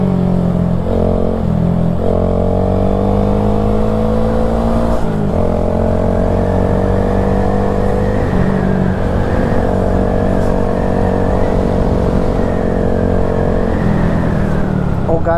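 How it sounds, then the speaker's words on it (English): A loud motorcycle engine with a deep, Harley-like rumble passes close by, heard over the steady drone of a small Honda Grom's own engine and wind, with some revving throughout. "that thing's like a Harley or something"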